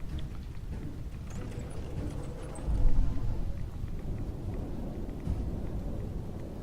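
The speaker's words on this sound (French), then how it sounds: "Et une tempête radioactive en plus sur cette terre." Rain pours steadily during a radioactive storm in the Fallout 4 video game, and a low rumble of thunder swells midway through the dense, continuous downpour.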